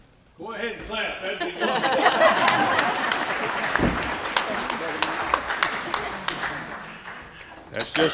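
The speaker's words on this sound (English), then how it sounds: "Go ahead and clap." An audience claps, with applause swelling quickly and holding steady, sharp individual claps standing out near the end, a voice briefly heard among them.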